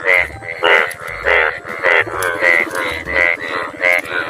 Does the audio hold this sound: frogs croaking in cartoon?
yes